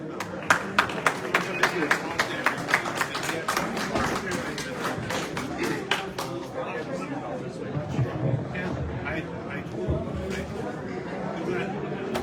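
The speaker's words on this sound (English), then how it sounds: "How about a nice applause for Rich?" An audience at a concertina congress anniversary celebration applauds, starting with distinct near claps that blend into a dense, fading round of clapping mixed with crowd chatter and thumps, while people talk.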